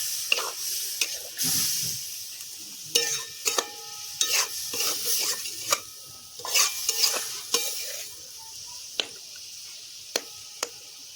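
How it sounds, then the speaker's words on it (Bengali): Water goes into a pan of frying banana flower curry with potatoes and chickpeas, giving bursts of sizzling hiss and scraping stirs in an irregular rhythm up close, with quieter gaps between strokes. "এবার আমি সেদ্ধ হবার জন্যে জল দিয়ে দিচ্ছি।"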